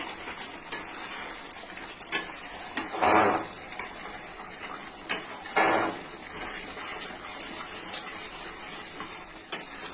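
Chhanar kofta kaliya, a cottage-cheese kofta curry, sizzles in oil in a pan with a constant soft hiss, punctuated by a few louder bubbling spurts and small clinks.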